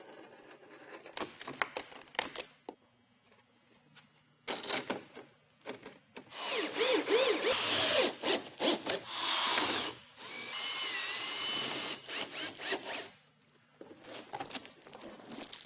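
A power drill drives screws into metal gable caps on a roof, with short whirring bursts, a few longer runs of the motor, and some metallic handling between them, close and without talk.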